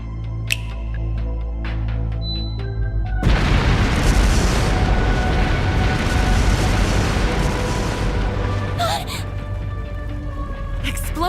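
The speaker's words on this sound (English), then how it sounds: "Explosive artifacts!" Explosive artifacts go off in The Legend of Heroes video game, with a sudden loud boom that turns into a sustained, rumbling wash of blasts over a low musical drone, ending in a few sharper crackles near the end.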